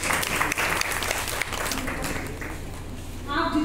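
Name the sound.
audience applause after a theatre play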